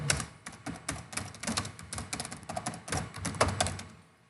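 Computer keyboard keys clicking in a quick, uneven run of close, light taps that fade out toward the end, with no talking over them.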